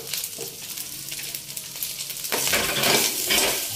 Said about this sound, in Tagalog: saan natin igigisa yung bawang sibuyas